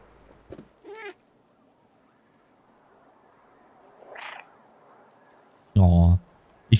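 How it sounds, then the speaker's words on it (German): A cat meowing in the video game Stray, several short separate meows with pauses between them, the last one loud and close, set against a near-silent background. "Ich finde das Miauen schön."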